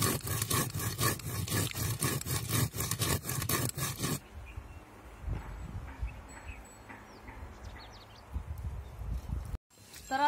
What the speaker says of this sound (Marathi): तर आता आपण याच्यामध्ये धणे आणि डाळ टाकलेली पाट्यावरती आणि ही पण आपल्याला एकदम बारीक वाटून घ्यायची